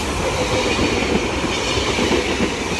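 A loud, continuous rumble and roar of a train rolling past nearby, with faint clattering of wheels and no voices.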